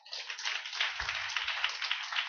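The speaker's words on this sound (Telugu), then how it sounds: "ఇప్పుడు కొట్టండి చప్పట్లు." A church congregation claps together in a brief, dense burst of applause lasting a couple of seconds, heard from a middle distance.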